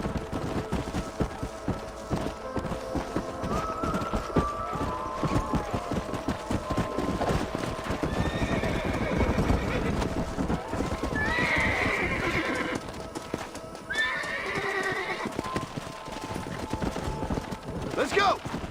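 Horses trot with steady clip-clop hooves and let out high whinnies in the western video game Red Dead Redemption, with a rider's voice briefly in the mix and scattered gunshot-like cracks in the background.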